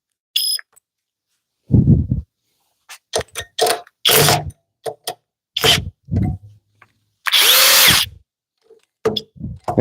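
Bursts from a Harbor Freight HCB81B, Flex FX1371, DeWalt DCF860 or Milwaukee 2953-20 impact driver driving screws, several short loud whirring runs of varying length separated by pauses, with one longer harsh burst near the end.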